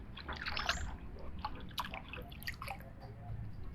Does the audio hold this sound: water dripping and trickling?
yes